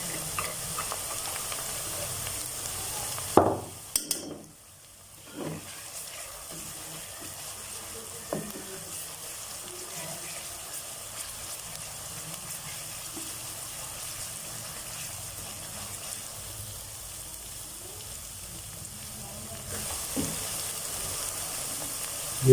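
Ginger garlic paste fries in a pan for an aloo gravy curry, giving a steady low sizzle with occasional stirring clatter, a sharp louder burst near the start, and no talking.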